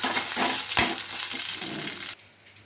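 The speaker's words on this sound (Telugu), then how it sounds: "కరివేపాకు, పుదీనా, చింతపండు, 4 రెమ్మలు ఎల్లిగడ్డ, పచ్చిమిర్చి మంచిగా వేగినాయి." Green chillies, garlic, curry leaves, mint and tamarind fry in hot oil with a dense, crackling sizzle, close and loud, until the sound cuts off sharply near the end.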